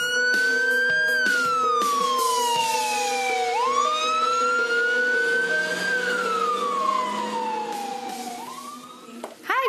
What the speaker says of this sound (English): Oh, the sirens. The sirens.